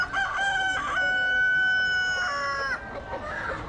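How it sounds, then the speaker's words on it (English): A rooster crows loudly and close by from among chickens kept in a basket at a Bali market, one long drawn-out call followed by clucking against faint background market noise. "What you see inside the basket are chickens."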